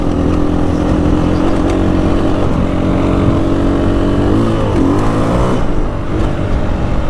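A powerful, lightweight adventure motorcycle climbs a rocky trail with sharp-edged stones, its engine droning loud and close, rising and falling in pitch as the throttle is worked, briefly easing off near the end.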